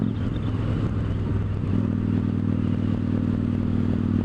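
A Victory Judge motorcycle engine drones steadily while being ridden, a low continuous rumble with a slight shift in pitch partway through, with no talking.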